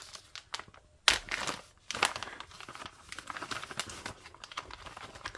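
Plastic packaging from a diamond painting kit crinkles and tears as it is opened, a close run of sharp rustles and crackles with a few louder bursts, heard alone without talk.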